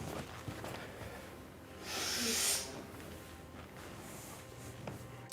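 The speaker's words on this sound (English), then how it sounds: "He sniffs the chair where Tate was sitting in his bathrobe a few minutes earlier." A person on a livestream takes one long, close, breathy sniff at a chair, surrounded by faint room noise.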